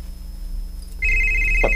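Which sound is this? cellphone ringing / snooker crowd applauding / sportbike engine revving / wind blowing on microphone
cellphone ringing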